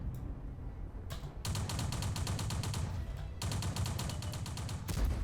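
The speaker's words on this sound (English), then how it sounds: "Yep, secondary gunfires as well" Rapid bursts of secondary turret gunfire in World of Tanks with a community-made two-gun mod, sustained rattling volleys broken by brief pauses, loud and close with no talk.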